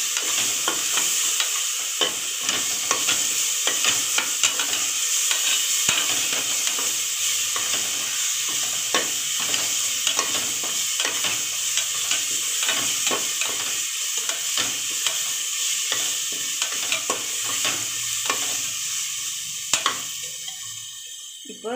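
Ginger garlic paste fries in hot oil for chicken biryani, a continuous loud crackling sizzle with frequent sharp pops and stirring scrapes that lasts throughout.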